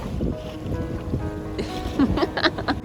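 A sailboat running under sail at sea near Messina, Italy, at about 5.5 knots: steady rushing water along the hull and wind buffeting the microphone, with a few voices in the background.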